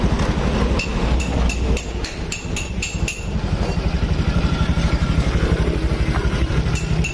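A 2018 Honda Beat scooter engine idles steadily and smoothly after repair, a close, even mechanical hum with a few sharp metallic taps in the first half.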